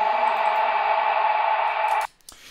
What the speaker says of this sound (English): but then we make this big reverse sound